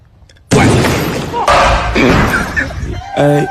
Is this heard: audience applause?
no